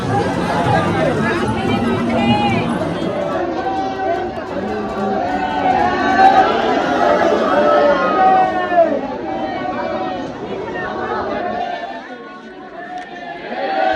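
A dense crowd of devotees chatters at Radha Rani temple in Barsana, a steady close hubbub of many overlapping voices lasting throughout, thinning slightly near the end.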